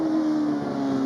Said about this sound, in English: Sounds like it's misfiring, doesn't it?